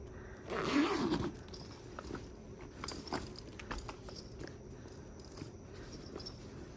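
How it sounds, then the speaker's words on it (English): A zipper runs closed on a Balenciaga leather bag in one quick, close pull, followed by soft rustling and small clicks of the leather and hardware. "All right, let me zip it closed."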